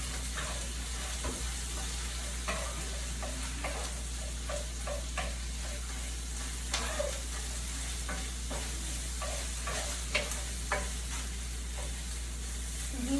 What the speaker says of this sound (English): Want the meat to be nicely browned and fried.